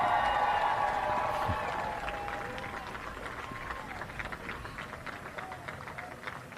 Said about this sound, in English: Lots of applause on the ground here